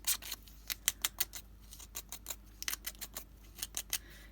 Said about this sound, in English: rough up my paper